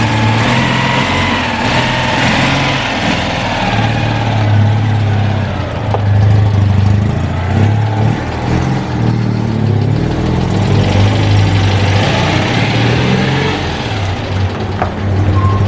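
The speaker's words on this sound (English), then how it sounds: "This is just the happy sound of 2CVs." A Citroen 2CV's small air-cooled engine runs steadily, a loud, close, buzzy thrum holding an even rhythm with slight rises in pitch, heard alone without talk.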